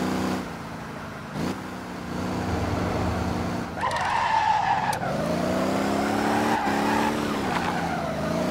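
Tires squeal as a car slides sideways into a turn in the driving game Motor Town, the engine droning steadily underneath at close range for several seconds.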